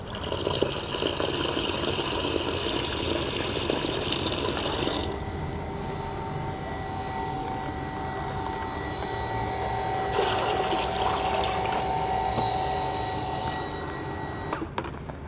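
An electric water pump refilling a household pressure tank, a steady loud mechanical hum with rushing water that shifts in tone partway through and cuts off near the end, with no talking.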